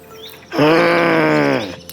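Cartoon goat giving one loud, close bleat that lasts about a second, a wavering nasal call after a brief quiet pause.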